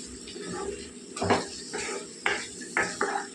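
A spoon scrapes and clinks against a pot while chilli powder is stirred into a mixed vegetable curry, giving several distinct close strokes over a low background hiss.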